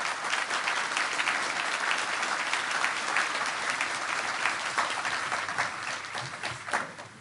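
Sustained, loud applause from an audience after a speech, dense and even throughout with no talking over it.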